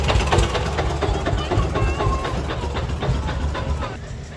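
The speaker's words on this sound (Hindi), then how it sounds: "देख लियो भाई यो आ गया एक ट्रैक्टर" A tractor arriving in a farm field rumbles loudly with a rhythmic engine clatter, close and steady before easing slightly, with someone talking over it.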